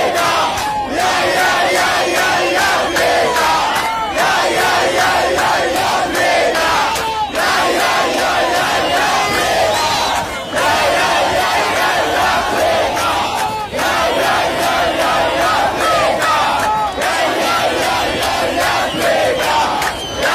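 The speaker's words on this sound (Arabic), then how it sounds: "ده كان هتاف الجماهير الجزائرية النهاردة لأبوتريكة" A huge crowd of Algerian football fans chants in a stadium for Aboutrika, a loud, dense, rhythmic roar of massed voices that keeps going without a break, repeating its phrases every few seconds.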